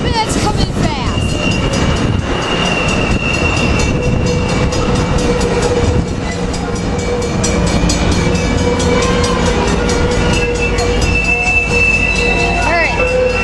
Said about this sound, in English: here goes the northbound Surfliner out of San Juan Capistrano